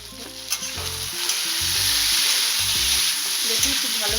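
A spatula stirs potatoes and tomatoes frying in a pan for a Bengali potato curry, with a loud, continuous close-up sizzle and brief scraping knocks over a few seconds. No voices are heard.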